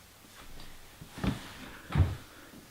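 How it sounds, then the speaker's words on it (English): A cardboard box being opened, with a couple of close, sharp rustling and tearing thumps spaced about a second apart over a quiet room. "let's go ahead, open up this box, and see what's inside."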